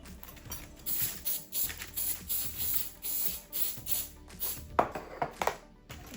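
A spray can hisses in several short bursts, fairly close, with soft rustling between sprays.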